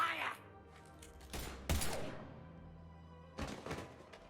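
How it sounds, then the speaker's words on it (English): Gunfire in the Mass Effect 3 video game: a few sharp, heavy bursts of shots with thudding impacts, separated by short pauses, at moderate loudness. "Now open fire!"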